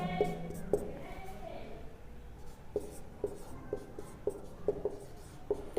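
Marker or chalk strokes on a classroom board during an English grammar lesson on articles, with a series of sharp taps and scratchy strokes spaced every half second or so, close by and moderately loud over low room noise.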